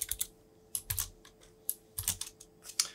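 Bursts of quick typing on a computer keyboard, close and crisp, with clusters of clicking keystrokes separated by short pauses over a faint steady hum.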